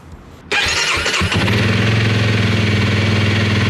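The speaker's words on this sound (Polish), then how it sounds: "Pierwsze odpalenie." A motorcycle engine is started for the first time on a winter day: a brief crank followed by a sudden catch into a loud, steady idle with a regular, throbbing rumble that continues close to the microphone.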